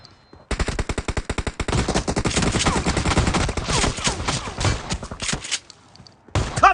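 Rapid bursts of gunfire in a shotgun-only team deathmatch video game, dense, loud and nearly continuous for several seconds, with close blasts layered over one another before cutting out briefly and returning.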